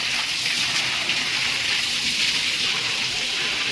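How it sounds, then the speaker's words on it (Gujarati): Steady rushing water at a temple, a close, even hiss that keeps going without a break for a few seconds. "અહીંથી પાણી આવે છે"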